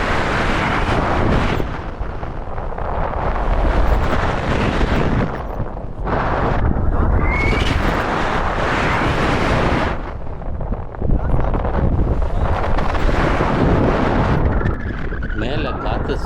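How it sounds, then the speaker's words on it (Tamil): Strong wind roars and buffets continuously past a paraglider flying high over Manali in Himachal's Kullu valley. The rushing gusts rise and fall, and a person speaks over the loud turbulence. "மேலே காற்று சரியான காற்றா இருக்குது."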